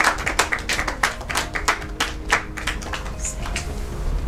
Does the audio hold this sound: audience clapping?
yes